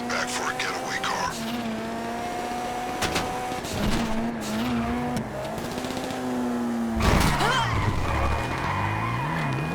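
A getaway car in GTA Online spins out, tyres squealing and skidding over a revving engine, loud and close, with game voices talking over it.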